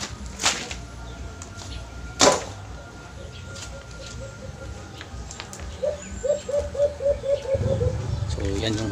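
Soft, repeated pigeon coos in a steady rhythmic series, fairly faint, over a low background hum with a couple of brief sharp noises.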